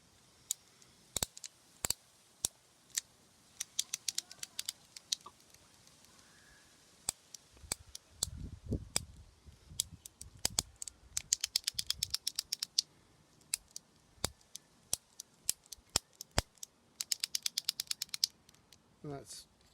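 Shimano Deore LX SL-M569 Rapid Fire shifter, freshly sprayed with WD-40, clicking in quick sharp bursts as it is worked back and forth repeatedly, close up, with faint handling noise between clicks.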